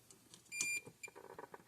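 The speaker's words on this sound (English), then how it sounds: "See how it just beeped and gave us a number?" Short electronic beep from a multimeter while testing the board of a Power Wizard PW18000 electric fence energizer, a single sharp tone amid quiet handling noise.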